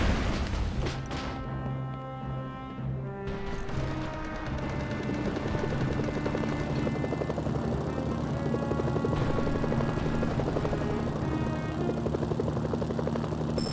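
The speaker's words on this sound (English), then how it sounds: "Incoming helicopters." Helicopters in the Mercenaries: Playground of Destruction video game arriving in North Korea, rotors thudding loud and steady amid bursts of gunfire and explosions.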